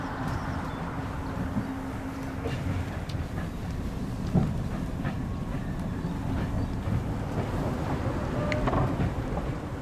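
Freshly serviced Sapsan high-speed train on a test ride, a constant deep rumbling roar of motion with faint clicks and rattles throughout, steady and continuous with no talk.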